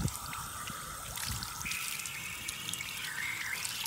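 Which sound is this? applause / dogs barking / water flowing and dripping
water flowing and dripping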